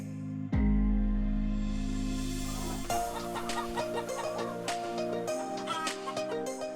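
Farm chickens cluck near and loud, starting with a sharp onset followed by a long sustained call. A series of shorter, rhythmic clucks and squawks comes from several birds after it.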